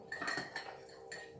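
Herbal components stirred into oil in a bowl bring a few quiet clinks and scrapes of a utensil against the dish, faint and close, with no talking.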